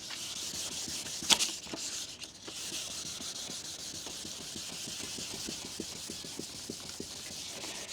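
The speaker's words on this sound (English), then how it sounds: "You don't have to sand a lot. You just kind of take the first layer off" Sandpaper rubs back and forth over a car headlight lens, a steady close scraping with regular strokes throughout and one sharp scratch early on.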